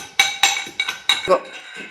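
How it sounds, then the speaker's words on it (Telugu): Dishes and pots clatter during kitchen cleanup while a mutton curry is being cooked, with several sharp metallic clinks and knocks spaced irregularly over a couple of seconds, close and fairly loud. "క్లీనింగ్ చేస్తున్నా ఫ్రెండ్స్, వంట చేస్తున్నా, ఇదంతా క్లీనింగ్ చేస్తున్నా."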